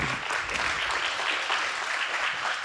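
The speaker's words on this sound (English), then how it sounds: "let's give her a round of applause, please." An audience applauds a chef after a talk on Cherokee dishes, a smooth wash of many hands clapping together, steady and moderately loud for a few seconds.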